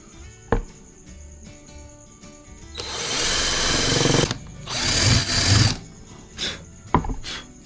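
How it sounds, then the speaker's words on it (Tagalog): A power drill bores into wood for a homemade mic holder, with two sustained whirring bursts of drilling, a short pause between them, and a few brief clunks and handling knocks around them. "Puputasan din natin siya ngayon para ma-screw natin siya para mas matibay naman."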